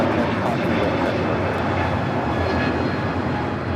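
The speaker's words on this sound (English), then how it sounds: "This is JetBlue Flight 288 taking off to Boston on the A321neo" A JetBlue Airbus A321neo takes off from Los Angeles bound for Boston, its engines a loud, continuous roar with a steady rumble that fills the whole stretch.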